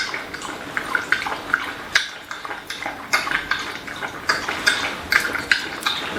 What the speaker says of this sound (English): as you can hear, this is the way we started, with the dog lapping water in her bowl